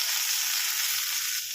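Pumpkin tossed into bitter gourd frying in hot oil, giving a dense, loud, continuous hissing sizzle close up with no other sounds.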